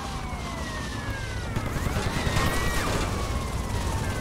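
Police sirens wail in the video game GTA Liberty City Stories, several overlapping rising and falling tones at moderate distance over a rumbling din of game action and crashes.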